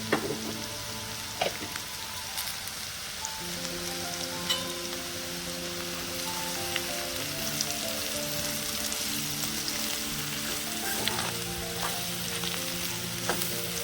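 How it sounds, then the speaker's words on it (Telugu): Ivy gourd (dondakaya) frying with chili powder in a pan, a steady close sizzle with occasional stirring scrapes and faint clicks throughout. "అందువల్ల ఈరోజు ఫ్రై చేస్తున్నాము"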